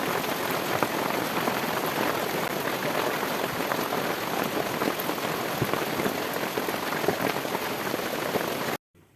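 Steady, dense rain falls on a surface in a village setting, a continuous loud hiss with scattered drop patter throughout, cutting off abruptly near the end.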